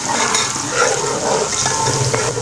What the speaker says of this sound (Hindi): तकरीबन 150 ग्राम कटा हुआ प्याज शामिल करेंगे, किनारे ब्राउन होने तक फ्राई करेंगे।